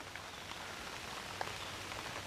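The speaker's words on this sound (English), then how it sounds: "She's starting to rain a little." Light rain patters on a surface outdoors, a soft steady hiss with scattered faint drops, fairly quiet and distant, with no voices.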